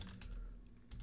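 Typing JavaScript code on a computer keyboard, a few quiet, distinct key taps with a short pause between them, close and faint.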